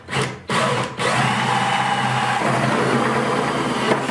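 A power drill fitted with a 3.5-inch hole saw bit cuts into a plastic 5-gallon bucket. Two short bursts come first, then a long sustained grinding whir that shifts pitch partway through, loud and close.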